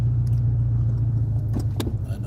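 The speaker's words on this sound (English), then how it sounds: "I know I saw a car coming." A car passes by close at hand, a loud, low engine rumble that stays steady throughout with a few faint clicks and rattles near the end.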